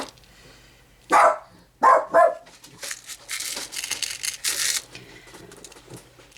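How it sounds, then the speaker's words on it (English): Pet dogs bark indoors: one sharp bark and then two more in quick succession, loud and close, followed by quieter shuffling and hissy household noise. "Can I get through a video without my dogs barking?"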